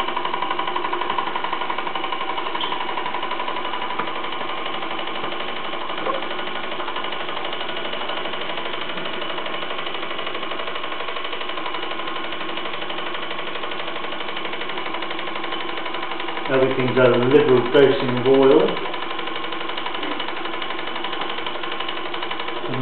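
A 1963 TE1 steam engine runs at close range with a steady mechanical whir and fast ticking clatter, then a louder knocking burst near the end, while someone speaks briefly.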